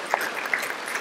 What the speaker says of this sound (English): an extra round of applause for